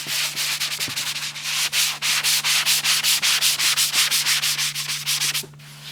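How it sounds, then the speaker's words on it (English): Primed RV roof surface on a 2006 Fleetwood being scuffed by hand with sandpaper, a close, loud, rhythmic series of quick rasping strokes, about five per second, alone and ending abruptly. "So I'm going to lightly scuff this up."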